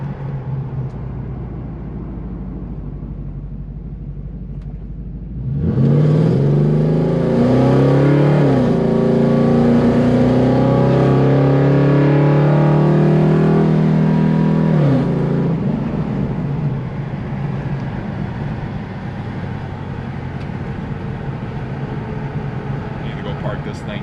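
A Ford Crown Vic with a swapped 7.3L Godzilla V8 roars through a burnout and hard acceleration, engine note climbing loud and close for about ten seconds before easing off into a steady idle-like rumble.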